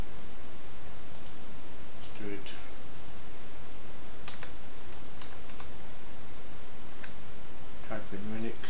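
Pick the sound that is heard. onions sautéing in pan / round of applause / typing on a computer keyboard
typing on a computer keyboard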